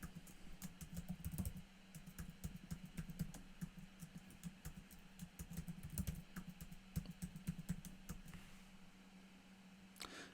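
Someone types a new password on a computer keyboard, producing quiet, close, irregular key clicks in short bursts over a low steady hum.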